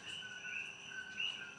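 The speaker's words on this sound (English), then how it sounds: "those are frogs" Frogs calling at night, a faint steady chorus of high trilling notes that keeps going without a break, far off and quiet with no speech.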